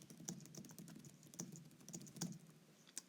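Fingers tap quickly on an iPad keyboard, producing a steady patter of soft, close keystrokes with a few sharper clicks, with no one talking.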